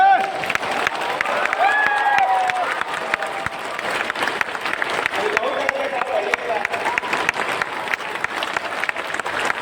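Loud, dense crowd applause fills a Janmashtami festival gathering, steady clapping with some cheering, continuing throughout as a voice carries over it.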